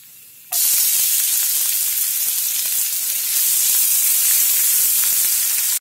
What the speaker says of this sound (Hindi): पैन में 2 बड़े चम्मच तेल गरम कर लिया है, अब उसमें जीरा ऐड करेंगे